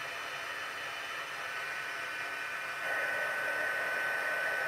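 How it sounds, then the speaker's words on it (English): A handheld craft heat tool blows hot air in a continuous whirring hiss, close and steady, rising slightly in pitch partway through. "let's just heat up the heat tool"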